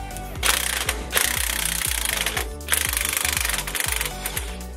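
An impact tool rattles in rapid hammering bursts while undoing a truck sway bar, three loud close-up runs of pulsing blows separated by brief pauses.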